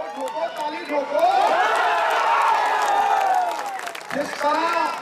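A political rally crowd claps and cheers loudly in a sustained roar that swells, dips briefly near the end, then rises again, with a voice amplified over it.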